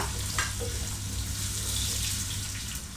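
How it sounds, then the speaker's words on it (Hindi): Onions frying in about a cup of hot oil for a mutton liver masala, a steady dense sizzle and crackle close up, continuous and even throughout, with no speech. "अब इसके अंदर मैं अनियन ऐड करूँगी और इसको गोल्डन ब्राउन कर लूँगी।"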